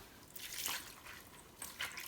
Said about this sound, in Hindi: खुला पानी डालकर हमने वॉश करना। मैंने तो आपको दिखाना था ना, तो मैं इधर ही वॉश कर रही हूँ।